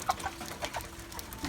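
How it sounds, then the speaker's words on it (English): Chickens and roosters let out by a farmer in the morning cluck in short, scattered bursts, fairly faint against a steady background hum with no talking. "Got one too many roosters."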